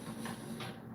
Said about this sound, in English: Back there, the projector on right now.